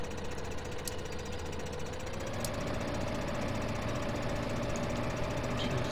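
Tractor engine in the Farming Simulator 15 video game, a continuous close knocking diesel idle with a steady low hum, the pitch rising slightly partway through as it revs.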